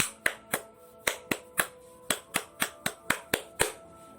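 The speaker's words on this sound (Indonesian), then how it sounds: "Pramuka memiliki tepuk tangan yang khas." Crisp hand claps in a quick syncopated pattern, an Indonesian scout clap, about a dozen sharp slaps grouped in short bursts, close and clear with no talking.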